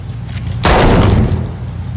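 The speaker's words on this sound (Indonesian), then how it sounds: "menembak si nenek dan menodongkan pistol ke arah 2 petugas" A single loud pistol shot cracks out abruptly, followed by a rumbling tail that fades over about half a second.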